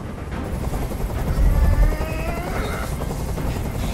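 A helicopter hovers overhead in the video game Detroit: Become Human, its rotor a steady, loud, continuous beating drone that swells briefly midway.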